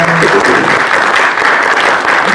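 A brief, loud round of applause from the audience at a panel discussion on building the future of North Texas, dense clapping filling the whole moment.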